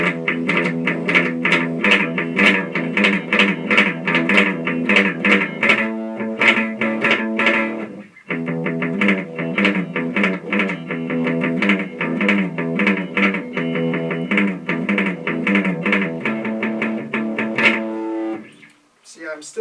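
An electric guitar warming up through an amp on a clean setting plays a steady run of plucked notes and chords at close range, pausing briefly midway and fading out at the end.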